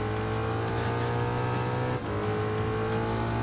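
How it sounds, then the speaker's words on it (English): A fully tuned Ford Mustang in the racing game Gran Turismo Sport holds a loud, steady engine roar with a dense low drone and rich harmonics, dipping briefly midway before the revving resumes. The sound is continuous and close, with no talk. "look me in the eyes and tell me you have not heard a Mustang sound like this before"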